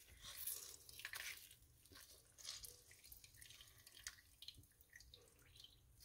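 Water drips and trickles from squeezed grated zucchini, faint irregular splashes into liquid with no talking.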